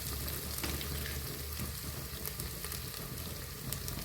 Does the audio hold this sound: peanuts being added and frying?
yes